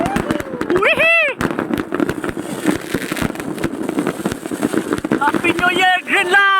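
New Year fireworks and firecrackers burst in dense, rapid crackling volleys with rising whistles, loud and close, while excited voices shout and talk throughout.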